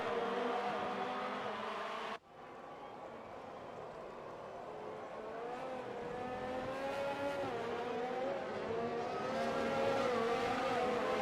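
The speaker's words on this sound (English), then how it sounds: "The Mercedes powered engine is really pushing down the streets." A Mercedes-powered Formula 1 car in the F1 2019 racing game screams along a street circuit, its high-revving engine note rising and falling steadily with gear changes, loud and close, with a brief cut near the start.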